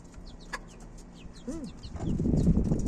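Rooster clucking in a small poultry coop, short bird calls repeating close by over a low background rumble that grows louder toward the end.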